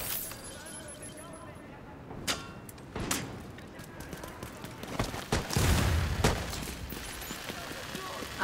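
A mounted gun turret fires in the shooter game The Division 2, sending several sharp bursts of gunfire at irregular intervals through continuous game noise while someone talks over it.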